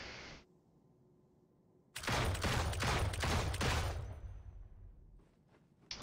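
The Punisher's magnum in Marvel Heroes fires a rapid cluster of loud, booming shots for about two seconds after a brief quiet lull, then a few faint trailing clicks and impacts, with no talking.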